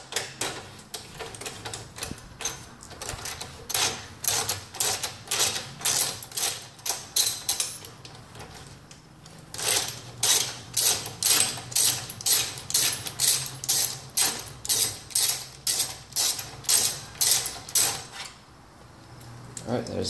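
A ratchet wrench clicks in steady, fast strokes while loosening bolts on a moped suspension, each run of clicks broken by short pauses, close and fairly loud.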